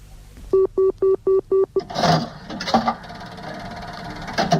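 A payphone in a hotel lobby is dialed in a radio drama: six clear, evenly spaced tones beep close by, followed by clicks, clunks and a low rumbling line noise.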